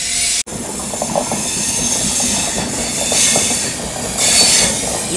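A passenger train bound from Tirunelveli to Bilaspur rolls past close by with a loud, steady rumble, rhythmic wheel clatter and a hissing wash of air throughout.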